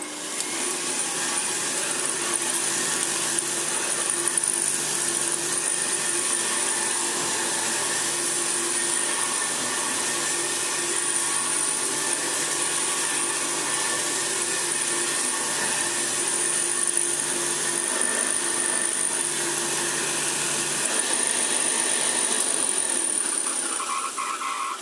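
A restored Hoover Senior 652a vacuum cleaner runs steadily and loudly for the whole stretch, a continuous motor whine with a slight shift in tone near the end and no talking.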